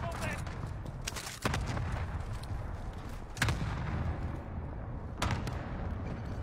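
Gunfire from a new assault rifle in Warzone, heard as several sharp, spaced shots over a low rumbling battle backdrop, fairly quiet overall with voices talking underneath.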